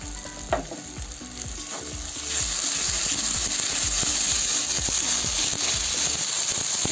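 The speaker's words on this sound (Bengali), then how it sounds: "ভালো করে ভেজে নেব মশলাটা ভালো করে কষাই নেব" Ginger-cumin paste frying in hot oil with garlic and green chili, a steady close sizzle that swells louder after two seconds, with repeated scraping stirs of a spoon against the pan.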